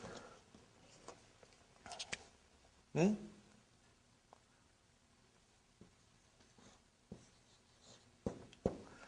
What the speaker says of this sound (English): I will write down, brothers and sisters.